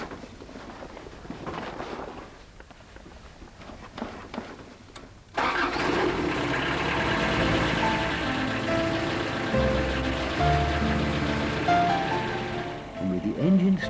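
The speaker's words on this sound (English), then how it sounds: "And with the engine started, Paul lowers the cutters and he's off." A weed-cutting boat's engine starts on a narrow upper stretch of river: quiet rustling and faint activity, then the engine catches suddenly and runs loud and steady with a heavy mechanical churn.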